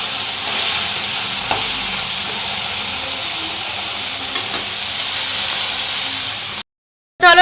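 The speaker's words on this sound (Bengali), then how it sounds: "তো এই মাছটা কড়া করে ভাজবো" Steady, loud sizzling of fish frying in hot oil, a continuous bubbling hiss with a few faint clinks, cutting off abruptly near the end.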